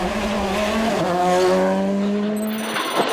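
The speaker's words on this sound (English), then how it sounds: "Donna Kelly felt he was a little overcautious in his VW Polo R5" A VW Polo R5 rally car is driven hard on a stage of the Mayo Stages Rally in Ireland, its engine howling loud and close with steady rising and falling revs, ending in a brief lift-off.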